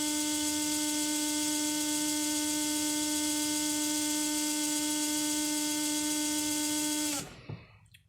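A Holmes Hobbies Torque Master 66-turn brushed motor in a TRX4M mini crawler whines at a steady high pitch for about seven seconds, then cuts off abruptly into a brief rattle and silence.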